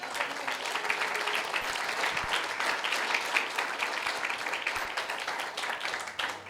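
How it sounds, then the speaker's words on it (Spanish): A church congregation applauds steadily during a Spanish-language sermon, dense continuous clapping filling the room throughout with no voice over it. "Denle un aplauso a Jesús."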